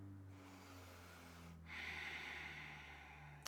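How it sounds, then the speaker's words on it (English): Ujjayi breath drawn slowly through the nose with a narrowed throat during yoga practice, a soft airy rush that swells midway and holds steady, close and quiet over a faint hum. "breathing through the nose, using that narrowing of the throat for the Ujjayi breath"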